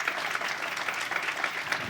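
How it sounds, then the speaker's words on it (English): Steady audience applause at a groundbreaking ceremony, dense clapping throughout at a moderate, even level with no talk over it. "Let's give her a round of applause."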